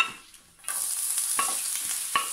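Ground beef and vegetables frying in olive oil over medium heat, a steady bright sizzle with a few stirring scrapes and clicks of a utensil in the pan, close and continuous after a quiet start.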